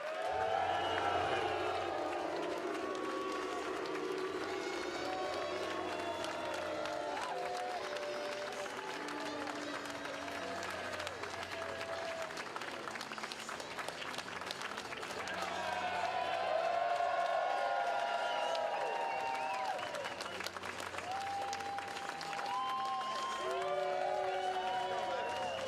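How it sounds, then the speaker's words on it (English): A live crowd in Atlanta cheers and applauds for goalkeeper Brad Guzan, with sustained clapping, whoops and shouting that rise and fall across the whole stretch, and a fresh swell of cheering partway through. "Bring onto stage with great joy, cheer for Brad Guzan!"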